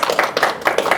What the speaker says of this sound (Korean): 근데 여기가 도서관이니까 박수는 조금 자제해 주시면 좋겠습니다